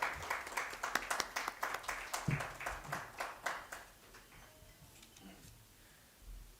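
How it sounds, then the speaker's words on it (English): Scattered clapping from a small group at an investor summit, fairly faint and distant, thinning out and fading away after a few seconds. "Please give a big round of applause."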